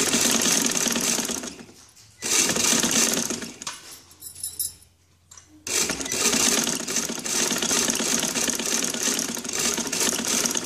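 A sewing machine stitches a V-shaped placket neckline, a loud, close, steady whirring run that pauses twice briefly with handling noise before carrying on at full speed.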